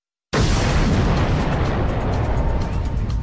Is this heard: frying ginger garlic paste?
no